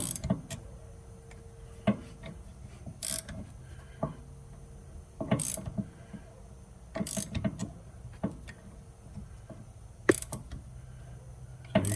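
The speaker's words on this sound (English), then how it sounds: "sometimes you got to keep tensioning up on the tool because it doesn't match the aggressiveness of the threads that's in the caliper itself" A brake caliper piston tool winding into the caliper threads during a rear brake rebuild: steady mechanical ratcheting and grinding clicks, with sharper clacks at regular intervals, close and without speech.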